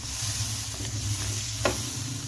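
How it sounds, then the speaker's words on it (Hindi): Ground boiled paste frying in oil in a pan for chicken white karahi, a steady close sizzle with a brief stirring scrape partway through, no talk. "इसको हमने अच्छे से भून लेना है ऑयल में।"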